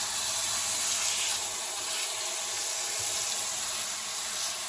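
Water runs steadily from a kitchen tap while garden produce is washed in baking soda water, a loud, close, continuous rushing hiss with no voices.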